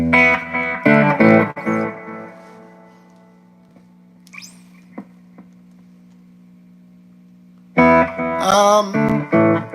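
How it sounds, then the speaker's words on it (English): Electric guitar through an analog delay effect plays a few bright distorted chords with a thick, echoing tail, pauses over a steady amp hum, then strums again. "I just had on the analog delay to thicken up, fatten up my tone"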